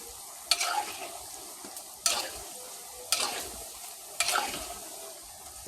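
Gaja sweets frying in oil and being stirred, a soft continuous sizzle broken by four distinct stirring strokes at roughly one-second intervals, each a sharp scrape that fades out.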